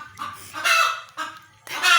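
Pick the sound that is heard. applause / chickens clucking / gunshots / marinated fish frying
chickens clucking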